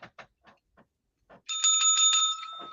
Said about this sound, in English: anytime it makes a lot of sense, I'm gonna ring the bell